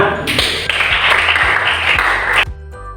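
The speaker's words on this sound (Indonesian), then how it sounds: "Oke, tepuk tangan." Classroom students clap together loudly and fairly evenly for about two seconds, then the clapping cuts off sharply into a near-quiet room.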